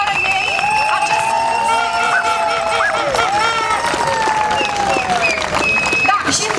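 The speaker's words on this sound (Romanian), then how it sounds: "Voluntarii de la Legendele Nemirei, mulțumim, haideți să-i aplaudăm" Outdoor crowd at a marathon awards ceremony in Slănic Moldova applauds and cheers, dense clapping mixed with chatter, whistle-like tones and background babble throughout.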